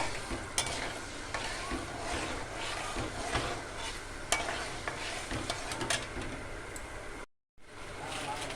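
Mustard and fenugreek seeds frying in hot oil for gongura pachadi, crackling and sizzling steadily up close with scattered sharp pops and stirring. The sound cuts out briefly near the end.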